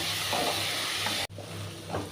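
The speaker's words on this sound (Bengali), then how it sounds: "এটাকে নেড়ে চেড়ে আরেকটু ভালো করে কষিয়ে নিচ্ছি" Spice masala stirred and fried in a pan for a Bengali dhokar dalna with chana dal, giving a steady close sizzle with scraping spoon strokes throughout and a brief break partway.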